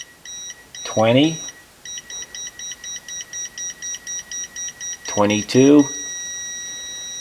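Steady series of short electronic beeps from a digital inclinometer tilt warning on a Kubota Grand L 5740 tractor, repeating in a regular rhythm, with someone speaking briefly at the start and again near the end.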